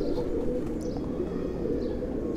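Pigeons cooing softly in a loft holding over 165 birds, a low steady murmur of coos with a few faint higher chirps over continuous background noise.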